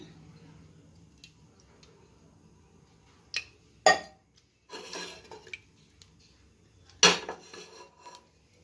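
A pressure cooker set down and handled while white oil is poured in for biryani, heard as a few sharp metallic clanks and rattles of cookware, isolated against a quiet kitchen background.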